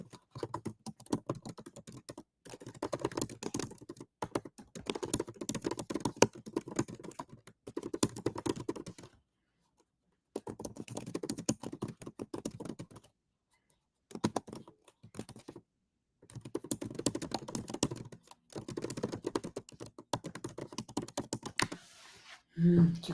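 Rapid typing on a computer keyboard in bursts of clattering keystrokes separated by short silent gaps, fairly close and alone, with no talk.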